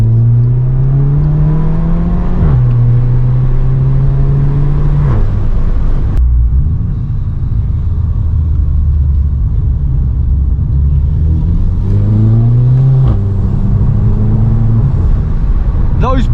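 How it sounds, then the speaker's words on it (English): VW Scirocco with DSG gearbox driving, engine droning and revving through gear changes with automatic downshifts, a few sharp exhaust pops at the shifts; loud and close throughout, with people talking over it. "Those pops need to be louder."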